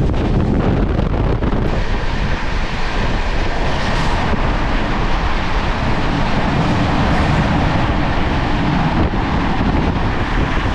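The Kolkata–Jammu Tawi Express (13151) arriving at Gomoh Junction rumbles steadily and loudly, with a constant roar of wheels and wind over the whole stretch and no voices.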